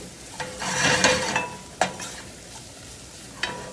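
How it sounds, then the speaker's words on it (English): Flour coats the fat in a pan and toasts into a roux for mustard gravy on pork, with a soft frying hiss, a burst of stirring and a few sharp spoon scrapes against the pan. "as you mix it evenly, it's toasting the flour, which is adding a lot of flavor"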